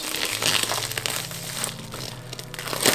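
Crinkling plastic as an item is folded and wrapped into a poly shipping bag, a continuous close rustle and crunch of thin film handled for a few seconds, with no talking.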